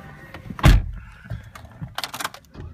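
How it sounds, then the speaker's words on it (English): A single sharp mechanical clunk of a custom Chevrolet HHR's door latch, followed by softer shuffling and light rattles nearby. "can you get the door"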